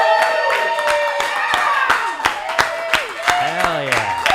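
Audience clapping and cheering at the start of a livestreamed local music session in Austin, sharp individual claps with whoops over a lively room, voices audible throughout.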